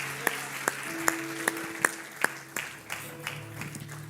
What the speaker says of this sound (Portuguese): Toma o seu lugar aplaudindo ao Senhor.